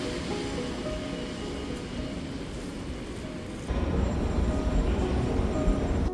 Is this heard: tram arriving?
yes